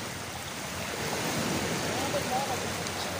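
Continuous wash of ocean surf at high tide with wind across the microphone, waves rolling in steadily, with a faint voice in the background.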